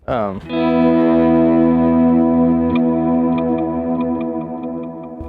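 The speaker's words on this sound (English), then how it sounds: "That's the long reverb." An electric guitar chord rings out through a long reverb pedal, struck once and then sustaining as a dense, loud wash that slowly fades, with faint repeating ticks near the end and no talking.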